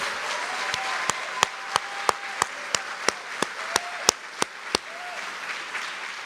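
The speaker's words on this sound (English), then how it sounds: "And now give the donors a round of applause because they're the ones." At a college foundation awards celebration, the audience applauds the donors: one person close by claps in sharp, evenly spaced beats, about three per second, over a softer bed of crowd clapping that keeps going after the close claps stop.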